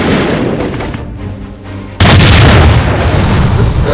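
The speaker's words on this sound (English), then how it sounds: "Let's see how they like cannon fire." Cannon fire from an animated Transformers episode: a sustained rumbling roar, then a sudden loud blast halfway through that stays dense and booming until the end.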